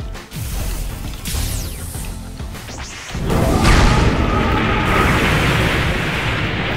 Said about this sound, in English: So let's blast out of magma everywhere and see if we activate a room.